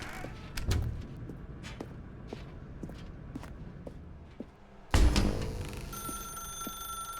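A telephone rings in The Stanley Parable game, a few spaced bright rings over footsteps in a dark room, then a louder burst with a sustained tone near the end.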